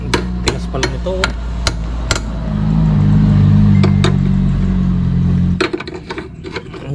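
Several sharp metallic hammer strikes ring out at irregular intervals on a motorcycle horn bracket, joined midway by a steady low engine-like hum that cuts off near the end.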